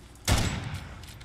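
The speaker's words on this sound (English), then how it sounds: "here you're shooting your tracking bullet to see if you can track me on the map" A single heavy tracking-bullet gunshot fired in a Bigfoot hunting video game, a sudden loud boom with a short decaying tail, close and alone.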